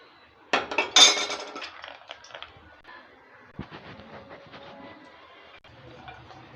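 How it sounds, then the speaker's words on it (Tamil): Metal clinks and scrapes from cashews and raisins being stirred in a heated kadai, with a cluster of sharp knocks early on followed by quieter, scattered clatter and soft sizzle. "இப்போ ஒரு கடாயை சூடு பண்ணி அதில் முந்திரி திராட்சை வறுத்து எடுத்துக்கலாங்க"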